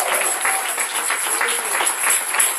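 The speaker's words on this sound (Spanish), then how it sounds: "¿Cuánto le regalan un fuerte aplauso al Señor?" Applause from a church congregation during a sermon, a brief, fairly loud burst of clapping with a few rhythmic accents.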